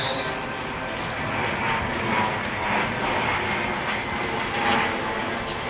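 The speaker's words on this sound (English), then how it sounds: "wait for that plane to go away above my head" A plane passes overhead beside a nameless pond in Warrington, its broad rumbling roar steady and fairly loud throughout, with no talk over it.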